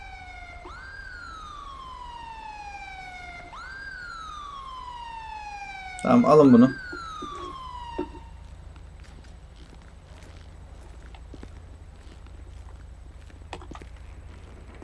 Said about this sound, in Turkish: Ambulansımız da geliyor.